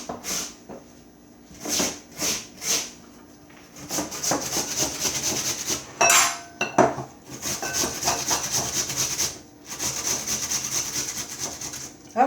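Potatoes grated on a hand shredder for latkes, heard as rhythmic rasping scrapes, close and fairly loud, in bursts of quick strokes separated by short pauses.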